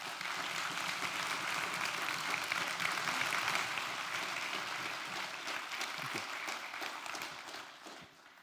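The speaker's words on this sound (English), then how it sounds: "so please give him a big applause" An audience at a university forum claps for a speaker in a broad, even round of applause, heard at a distance, that gradually thins and tapers off toward the end.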